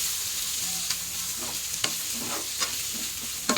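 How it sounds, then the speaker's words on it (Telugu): Chicken fries in a pan while being stirred, a soft steady sizzle broken by several spatula scrapes and taps at irregular intervals, no one talking. "ఇలా కలుపుకున్నాక ఇంకొంచెం ఫ్రై చేయండి."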